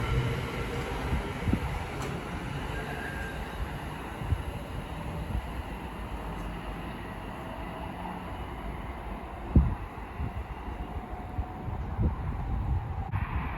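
Avanti West Coast Class 390 Pendolino electric train running from London Euston to Manchester Piccadilly through Lichfield Trent Valley on the West Coast Main Line, a steady broadband rumble and rush with wind noise on the microphone and a brief louder thump partway through.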